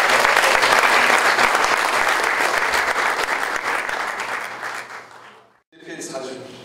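An audience at a 40th-anniversary mission lecture applauds to welcome a professor, with dense, loud clapping that gradually fades out, followed by a brief pause before a voice begins speaking.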